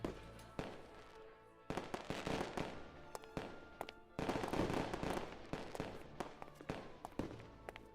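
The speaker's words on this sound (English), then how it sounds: "The classic fireworks, loud and disruptive, but still perfectly in place at a party." Rapid bursts of fireworks popping and cracking in irregular clusters, loud and sharp, with a dense barrage near the middle.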